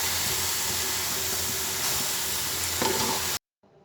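Carrot halwa (gajar ka halwa) with dry milk powder added sizzles and hisses steadily in a pan as it is stirred, a constant close frying texture that cuts off abruptly near the end.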